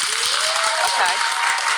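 A television talk-show studio audience claps and cheers in a steady burst of applause, while a voice rises briefly above the crowd noise.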